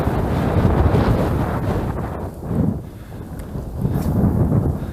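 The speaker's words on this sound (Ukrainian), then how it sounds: "хоча вітер дує і заважає правильно анімувати приманку" Strong wind gusts buffet the microphone beside a pond during spring spinning fishing, with a steady low roar that swells and eases in several surges and no speech.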